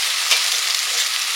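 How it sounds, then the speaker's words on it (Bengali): A spice paste of ground dried chillies, cumin and coriander fries with onion in a pan, a steady close hiss and sizzle throughout. "একটু জল দিয়ে মশলাটা কষে নেব।"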